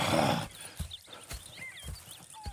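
Horses in the Red Dead Redemption 2 game give a neigh at the start, then hooves clip-clop in a slow, uneven rhythm at close range, with no talk over them.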